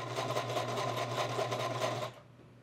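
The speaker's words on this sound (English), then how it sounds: "I can use this presser foot to sew piping as well." A sewing machine with an adjustable presser foot stitches piping, a fast steady mechanical whir with a low hum, running close and alone for about two seconds before stopping abruptly.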